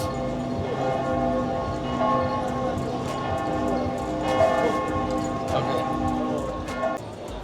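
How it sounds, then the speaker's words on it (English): Large cathedral bells ring out with repeated resonant peals and sustained ringing tones over a background of street ambience in Pisa, Italy. "the cathedral bells are going off."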